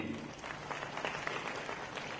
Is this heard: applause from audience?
yes